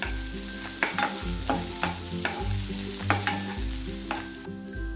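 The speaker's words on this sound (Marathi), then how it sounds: "आणि गाजर हे सुद्धा आपण एक ते दोन सेकंद छान असं परतून घेऊ" Carrots and capsicum for masala oats sautéed in a hot pan, a loud steady sizzle broken by rhythmic scraping strokes of a spatula about once a second, no talk.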